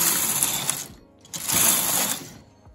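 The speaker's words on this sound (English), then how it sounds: "I'm going to knit 2 rows." A knitting machine's carriage sliding across the needle bed for two rows while making a scalloped edge, two loud mechanical whirring, clattering passes separated by a short gap, close and alone.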